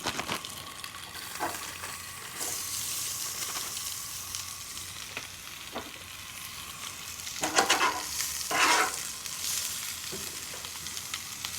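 Steak with potatoes, mushrooms and onions sizzles steadily on a camp stove, a continuous hiss of frying with occasional louder spatters and stirring scrapes, close and without talk.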